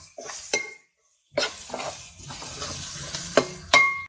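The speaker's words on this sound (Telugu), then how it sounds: "ఈ అల్లం వెల్లుల్లి పేస్ట్ పచ్చివాసన పోయేదాకా వేగనివ్వండి" Ginger garlic paste frying in a pan for a village-style country chicken curry, with soft sizzling and a spoon stirring and scraping the pan in short bursts, plus a few sharp clinks of metal against the pan.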